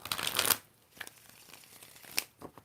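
Tarot cards being shuffled by hand in a brisk riffle near the start, followed by a few softer card flicks and taps spread across the rest, close and fairly quiet with no talk.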